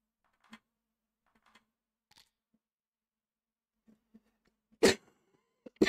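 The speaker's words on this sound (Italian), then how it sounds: "Scusate la tosse." One sharp, loud cough comes near the end, after a few faint clicks and taps in a quiet room during an online backgammon championship match.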